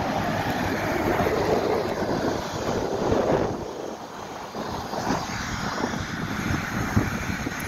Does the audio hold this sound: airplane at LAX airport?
yes